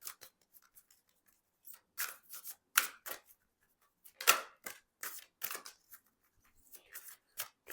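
Tarot cards being handled, shuffled and drawn, a quick series of crisp, close slaps and rustles in irregular bursts against near silence.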